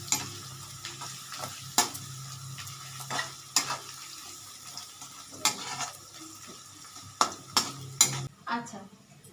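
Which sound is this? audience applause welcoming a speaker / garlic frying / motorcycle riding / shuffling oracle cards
garlic frying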